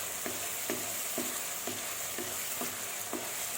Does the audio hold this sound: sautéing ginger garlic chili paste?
yes